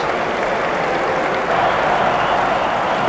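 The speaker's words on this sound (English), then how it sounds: "Crowd are going wild." A one-day international cricket crowd in an Australia versus South Africa match roars continuously, a dense wall of cheering and clapping that swells slightly midway and stays loud throughout.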